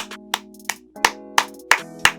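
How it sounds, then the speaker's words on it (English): Six sharp, close hand claps in a slow, steady rhythm over a quiet background hum. "I think I clapped for you in my After Dark video too"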